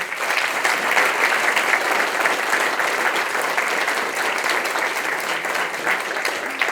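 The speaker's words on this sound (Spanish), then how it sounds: "Un aplauso fuerte al Señor." A church congregation gives loud, sustained applause to the Lord during a Catholic sermon, a dense and even roar of many clapping hands holding steady for several seconds.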